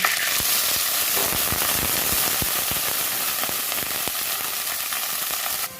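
Cauliflower stalks sizzle and crackle steadily in hot oil in a home kitchen, a loud continuous hiss broken by sharp pops, with no voices.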